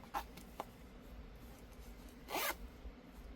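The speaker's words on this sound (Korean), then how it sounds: "보니까 지퍼들은 딸랑딸랑 소리 안 나게" A zipper on a small sling bag made to hold an 11-inch iPad is pulled open in two quick short tugs and then one longer, louder zip, close up and quiet with no talking.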